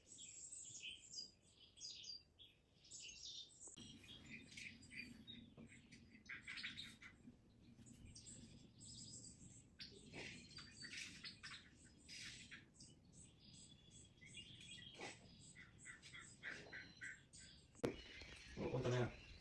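Birds chirping and squawking from a television watched by cats, a steady stream of high tweets with a low hum beneath and occasional voices.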